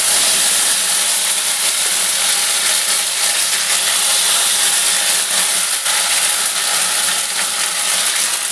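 Ginger dropped into hot oil with five-spice seeds for a Bengali sukto hisses with a loud, dense, continuous sizzle and steady spitting throughout.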